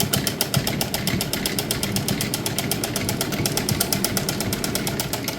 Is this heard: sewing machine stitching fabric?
yes